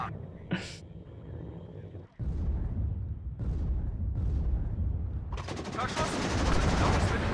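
German Fallschirmjäger troops fire in the WARNO war game: scattered single shots and short bursts give way to a loud, sustained rattle of automatic gunfire, with battlefield rumble underneath.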